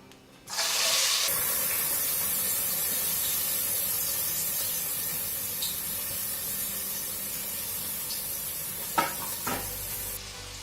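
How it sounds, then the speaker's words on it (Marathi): Chopped onion sizzling in hot oil as prawn biryani gets underway, a loud steady broadband hiss that starts abruptly and holds for several seconds before a few sharp clinks near the end. "तेल गरम करायला ठेवलेलं आहे. आता यामध्ये प्रथम आपल्याला हा कांदा टाकायचा आहे."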